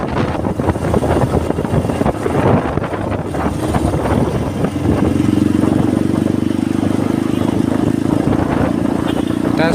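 An old vintage motorcycle rides through a town, its engine chugging under wind buffeting as a person talks over it, the motor droning louder and steadier in the second half.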